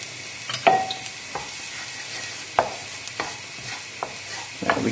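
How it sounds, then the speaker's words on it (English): Shallots sizzling in a pan while being stirred for a poached salmon tagliatelle, with a continuous soft fry and regular scraping strokes about every half second to second, close up. "So the shallots will just be ever so slightly cooked, and that's exactly what we want."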